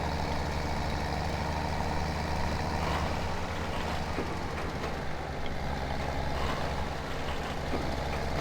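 Tractor engine idling in the video game Farming Simulator, a continuous loud low rumble with a steady hum and no breaks, heard alone without talk.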